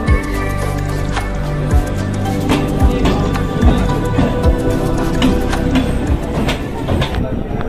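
Crowded early-morning commuter train ride: a loud, steady rumble with rhythmic clacks and rattles of the carriage running throughout, no clear talk over it.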